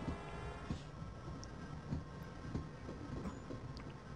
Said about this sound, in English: So we're on a tram thing, I guess.